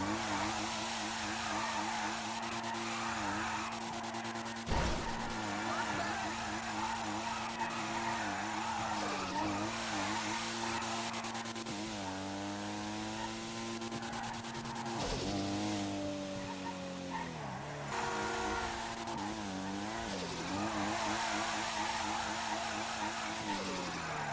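Car in the GTA V NoPixel racing game drifting and skidding, with a continuous engine drone under long wavering tire squeals that rise and fall in pitch as the car slides, loud and steady throughout.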